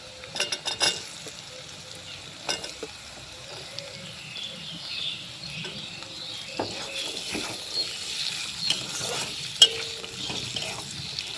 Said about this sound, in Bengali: এখন কেটে রাখা গাজর কুচি দিয়ে দেবো।